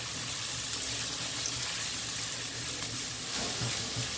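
Peppers being stirred as they fry in a pan for Cuban-style yellow rice with pork: a steady, close, continuous sizzle with faint scraping, and no voices.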